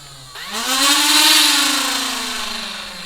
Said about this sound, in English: the blaster will rev